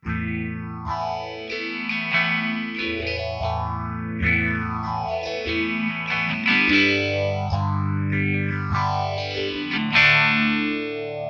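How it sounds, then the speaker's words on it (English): Electric guitar chords through a Boss ME-90 phaser sweeping up and down, giving a swirling, whooshing motion to the sustained clean notes; steady and fairly loud, no voices. "I have a phaser."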